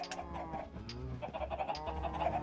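Several video game chickens cluck and squawk in overlapping bursts over a steady low hum, with no talking.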